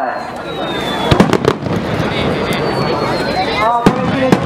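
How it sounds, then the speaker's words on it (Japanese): Weeping willow-style shidare fireworks burst at a 2018 festival, with several sharp reports cracking over a continuous crackling, fizzing rumble while people nearby talk throughout. "廃れ型の花火でございます"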